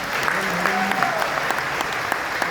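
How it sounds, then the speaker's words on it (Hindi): Loud, dense applause fills a hall at a business-success event in Agra, a steady wash of many hands clapping together without a break for the whole stretch. "उनके एक जोरदार ताली बजा सकते हैं।"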